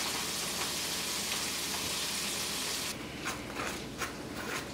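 Battered shrimp fry in a pan with a dense, steady sizzle and crackle. The sound thins slightly partway through, leaving scattered pops and spits.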